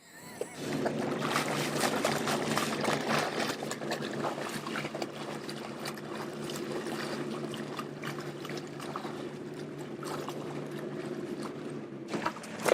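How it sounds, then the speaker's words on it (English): Water from a hose splashes steadily while someone showers off on the deck of a sailboat, a continuous close spray and trickle that runs on without a break. "we've got to be very careful with your showering off here"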